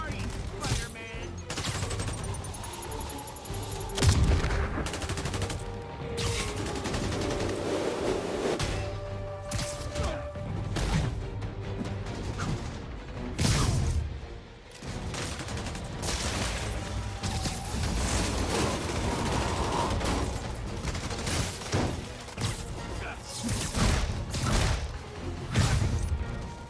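Police cover fire in the game Marvel's Spider-Man: dense, continuous bursts of automatic gunfire and rapid shots layered with explosions, impacts and a sweeping score, loud and nearly unbroken, with voices shouting over the battle.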